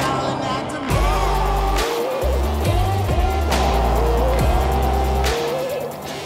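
A Mercedes-Benz X-Class 4MATIC ute drives off-road in the wilderness, its engine revving and rising in pitch through several gear changes, loud and close with tyres struggling for traction.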